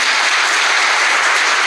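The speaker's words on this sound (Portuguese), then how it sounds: "Uma salva de palmas para Nossa Senhora." An audience at a Catholic prayer gathering gives a brief, loud burst of dense clapping, close and steady with no voices.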